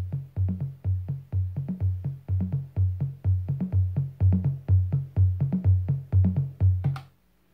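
A Roland TR-8S drum machine tom pattern of three toms plays in a steady sixteen-step loop, with punchy low thuds repeating evenly for several bars before stopping abruptly.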